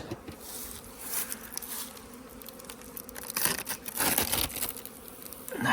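Honey bees swarming around their hives on an early spring cleansing flight, a dense continuous buzzing that rises and falls as bees pass close by, with no voices.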